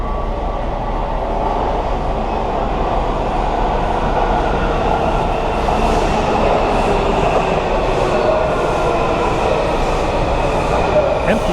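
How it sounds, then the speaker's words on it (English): Subway train arriving at a DC metro station, a steady loud rumble with wheel noise and faint squeals building over several seconds on the platform. "It means a train's coming."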